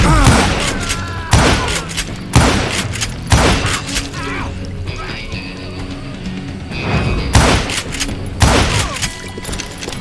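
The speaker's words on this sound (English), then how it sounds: "Who's shooting at you?" Gunfire in the video game Call of Juarez: Gunslinger, repeated loud booming shots at irregular intervals with heavy echoing thuds and a continuous rumble of in-game action beneath.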